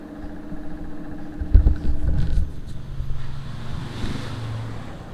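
A motorcycle passes along an Indonesian roadside, its engine rising to a loud, close swell midway and then fading, with wind noise over the microphone throughout.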